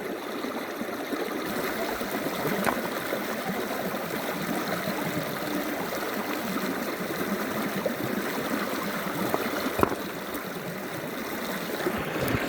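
A river near Nasugbu rushes in a continuous broadband wash throughout, close and steady, with a few faint clicks and knocks scattered through the flow.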